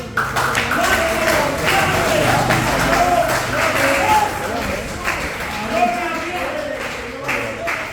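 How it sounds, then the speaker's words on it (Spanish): Church congregation clapping during a Spanish-language service, a sustained patter of many hands under a preacher's voice, fairly loud and continuous. "¿Cuántos aplauden al Señor? ¿Cuántos lo aplauden?"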